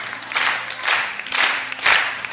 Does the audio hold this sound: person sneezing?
no